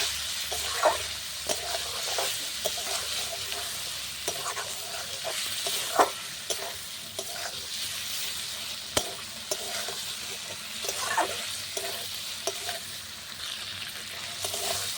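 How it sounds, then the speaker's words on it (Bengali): Chicken liver sautéing in a pan, a continuous close sizzle and hiss broken by regular scraping and clinking as a spoon stirs, with no one talking. "খুব ভালো করে কিন্তু মেটে কষিয়ে নিয়েছি"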